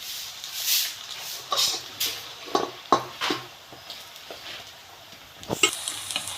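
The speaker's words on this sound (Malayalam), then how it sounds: "ഓരോ കഷ്ണങ്ങളായിട്ട് ഇതേപോലെ നമ്മൾ തിളച്ച എണ്ണയിലേക്ക് ഇട്ട് കൊടുക്കാം" Jackfruit chilli pieces dropped one by one into boiling oil, a soft steady sizzle punctuated by several sharp clinks and spatters of the pan and utensil, close and fairly quiet with no talking.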